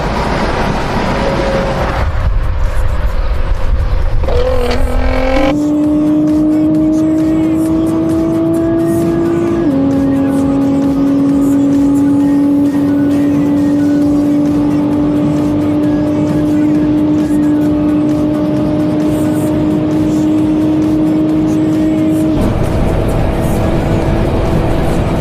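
Nissan GT-R accelerating hard on a German autobahn from 100 to 200 km/h, its engine note climbing steadily through long gear pulls with brief shift breaks, loud and close from inside, with wind and road roar throughout.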